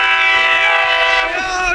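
A train horn blares in a tunnel, a loud sustained chord that fills the space over a low rumble as the train approaches, with brief shouting voices.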